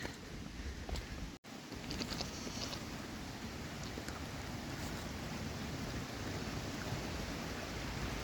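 Steady, dense rushing water, like a swollen creek running nearby, continuous and fairly loud with no voices.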